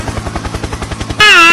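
A helicopter in the Roblox game Granny 2 chops with a rapid, even rotor pulse, loud and close, before a bright tonal game sound takes over at the end.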